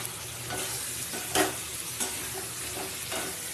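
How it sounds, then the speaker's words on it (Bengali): Meat sautéing and being stirred in a pan for a Sunday lunch, with a steady, fairly faint sizzle and a few sharper scraping stir strokes at intervals; no talking. "এবার মাংসগুলো দিয়ে ভালো করে আমি কষিয়ে নেব"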